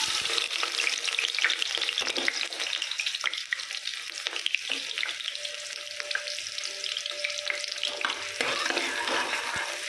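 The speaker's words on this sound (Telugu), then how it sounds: "ఉల్లిపాయ ముక్కలు కోసుకున్నాం కదా అది వేసేయండి" Chopped onions fry and get stirred in a pan for a goat-head curry, giving a dense close sizzle with scraping stir strokes throughout and no voices.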